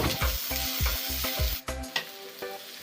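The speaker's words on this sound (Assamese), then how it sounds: "এতিয়া মই পিঁয়াজৰ লগতে বিলাহীও এড কৰি দিছোঁ।" Onion and tomato, frying together in a pan for an Assamese pork curry, hiss and sizzle with rhythmic scraping strokes of a stirring spoon, about six regular stirs then a few looser ones, close and clear with no voices.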